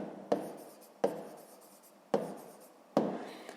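Pen strokes on paper while writing down a math answer: four short, distinct scratchy taps spaced about a second apart, close and quiet.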